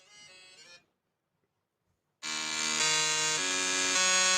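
A short robotic, vowel-shaped synth voice, then silence, then a sustained buzzy talk-box vocal line with stepping pitch changes, loud and alone, from a song.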